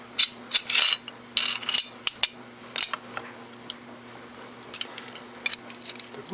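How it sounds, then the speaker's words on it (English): Metal parts of a Tokarev TT33 pistol click, scrape and clack up close as the barrel is fitted back in during reassembly, a busy run of sharp handling noises and small impacts with no voices. "Insert the barrel like this."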